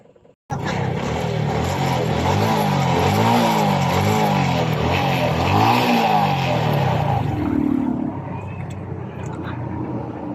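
A Suzuki Smash 115 motorcycle, stalled after losing electrical power, starts and runs with a loud, close engine note that rises and falls through several revs before settling to a steadier idle.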